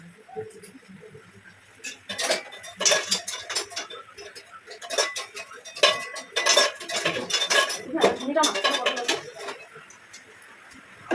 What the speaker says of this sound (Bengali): হালকা নেড়ে নিচ্ছি